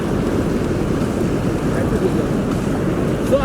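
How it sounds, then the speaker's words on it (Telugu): Fast, dangerous river water rushes past in a loud, continuous roar, dense and close without a break. "ఇట్లా వాటర్ చాలా ఘోరంగా వస్తుంది వాటర్ చాలా ఘోరంగా అంటే ఘోరంగా వస్తుంది వాటర్"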